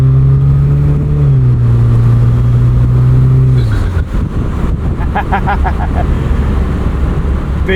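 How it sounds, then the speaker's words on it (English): A 2008 Saturn Sky Redline's turbocharged engine droning steadily, then accelerating on boost with a rushing whoosh and fluttering turbo noises, heard from inside the car with wind and road roar. "Big boost noises."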